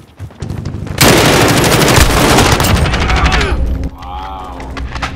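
Rapid automatic gunfire in Call of Duty: Modern Warfare during a team deathmatch in the Azhir Cave, a loud dense burst of shots lasting a few seconds before fading into a softer mechanical tail.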